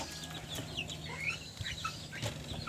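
Chicks on a small farm give scattered, high, faint cheeps and clucks over steady low background noise, with no voices.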